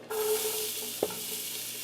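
Green peppers, celery and onion hit a hot Dutch oven with a sudden loud sizzle that settles into a steady frying hiss, with one quick scrape of a utensil midway.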